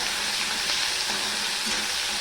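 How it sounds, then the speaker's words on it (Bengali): Ginger paste, split green chillies and bay leaves frying in oil for a summer curry without onion or garlic, a dense, even close-up sizzle with faint stirring. "যতক্ষণ না আদাটা লাল লাল হয়ে ভাজা হচ্ছে"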